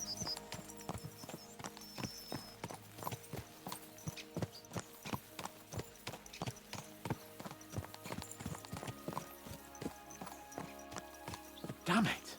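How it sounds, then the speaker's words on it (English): Horses gallop in Kingdom Come Deliverance 2, their hooves clip-clopping in a steady rapid rhythm throughout, with a brief whinny near the end and a voice talking over the hoofbeats. "Let's really spur these horses on, eh?"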